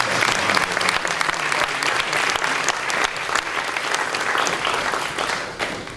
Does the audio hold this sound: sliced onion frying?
no